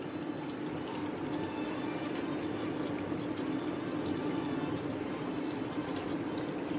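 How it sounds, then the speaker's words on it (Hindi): Boiled white beans slosh as they are poured with their cooking water into a pot of masala, making a steady, continuous watery rush that runs close and unbroken throughout. "दाल डाल दिया, उसी पानी समेत मैंने डाल दिया जिसमें मैंने बॉयल की थी।"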